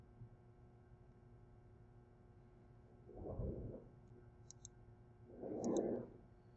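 Two soft mouse clicks, about two seconds apart, on a computer running Allen Bradley PanelView HMI software, close and quiet against a steady low hum.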